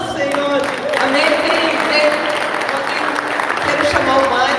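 A church congregation applauds steadily and loudly during a Sunday celebration service, dense continuous clapping with crowd murmur and voices mixed in.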